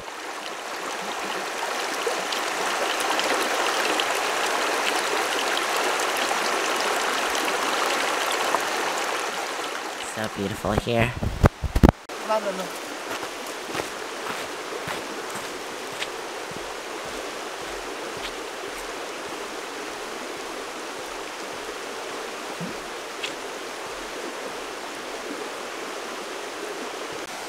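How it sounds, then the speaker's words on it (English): Lyre River stream water rushing steadily near a beach, loud for the first ten seconds, then a brief handling clatter and a softer continuous flow; a person speaks briefly over it. "There's the beautiful Lyre River."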